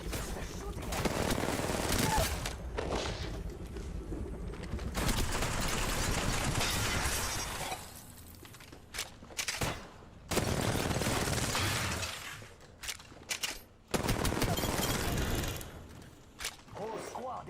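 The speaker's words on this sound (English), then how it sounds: "They're shooting at me." Gunfire in the battle royale shooter Apex Legends, long loud automatic bursts broken by gaps and short sharp shots, with game voice lines mixed in.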